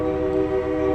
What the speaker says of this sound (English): quick blow on the whistle already